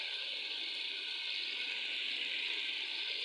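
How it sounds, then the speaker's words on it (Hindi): Water poured into a pan of potato curry with eggs, a steady close rushing hiss that holds evenly for a few seconds without talk. "अब इसमें थोड़ा सा पानी डालेंगे ताकि आलू अच्छे से गल जाएं"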